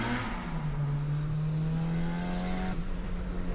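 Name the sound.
1998 Honda Civic VTEC turbo engine and turbo accelerating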